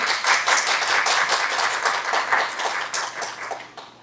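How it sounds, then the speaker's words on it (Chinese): An audience at an academic lecture on game-based learning applauds to welcome the speaker, many hands clapping briskly and fairly close, holding steady before thinning and fading out at the end. "所以今天我们是不是用这个最热烈的掌声，好不好？"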